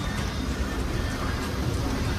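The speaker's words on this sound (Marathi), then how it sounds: "तुफान पाऊस आहे दापोलीत पण" Heavy monsoon rain pours down in Dapoli in the Konkan, a steady dense hiss of downpour with low rumbling noise running throughout, close and continuous with no voices.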